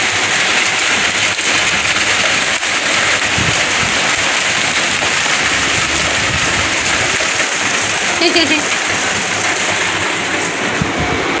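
Steady rain falls on and off during a monsoon-like dark day at a home, a dense continuous hiss filling the whole stretch at an even, fairly loud level, with no clear talk over it.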